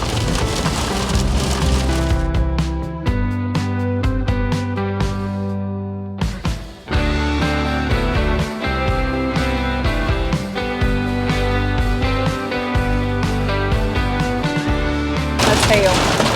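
Heavy rain or hail pelts an RV during a Nebraska storm, a dense, loud, continuous drumming of drops on the roof and body, with brief pauses and sharper impacts scattered throughout.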